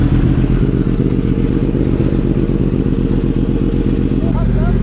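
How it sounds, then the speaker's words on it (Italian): A XG6 motorcycle ridden through night streets in Naples, its engine droning loud and steady with rough low rumble throughout, voices briefly audible near the end. "l'XG6 è una bella moto per impennare"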